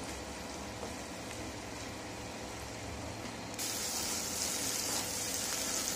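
Masala with ground peanut paste frying in a pan for stuffed eggplant, a dense continuous sizzle that grows brighter and slightly louder partway through, steady and close with no voices.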